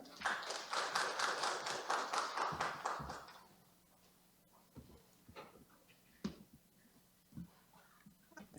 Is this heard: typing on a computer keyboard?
no